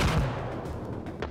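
Gunfire from a mobile shooter game boss fight, a burst of heavy low shots at the start that thins into a steady rumbling wash of game noise, fairly loud and without talk.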